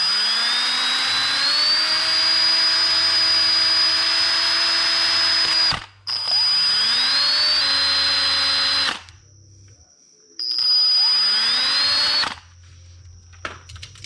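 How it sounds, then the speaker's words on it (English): Power drill spinning a wire brush against 2012 Chrysler 200 front brake parts, three loud whirring bursts of several seconds each with brief pauses, pitch dipping as the brush bears on the metal. "I'm going to wire brush these"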